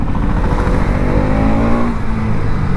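A Bajaj NS200 motorcycle engine revs hard toward high RPM, a loud, close, continuous roar with rising pitch throughout and no talking.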